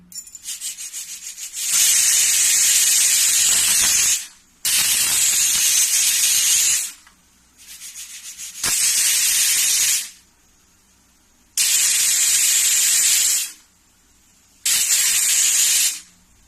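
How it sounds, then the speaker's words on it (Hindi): A pressure cooker cooking mixed dalia whistles in repeated loud hissing bursts, five long jets of steam separated by short quiet gaps. "अब इसमें मैं 5 सीटी लगाऊंगी।"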